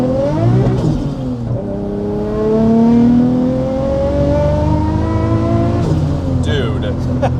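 A Nissan S15 Silvia with a big-turbo RB25 engine accelerates hard, its engine note rising through a long pull with gear shifts between, heard loudly from inside the cabin while people talk excitedly.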